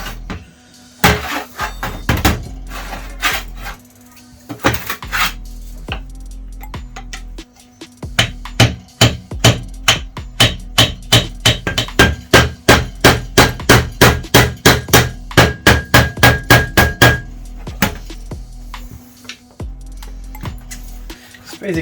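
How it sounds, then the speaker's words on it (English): A hammer taps a flathead screwdriver around the edge of a metal cap to pry it off, irregular strikes at first, then a long run of rapid, evenly spaced sharp metallic knocks, close and loud. "just try to hammer around the edges and pry it open"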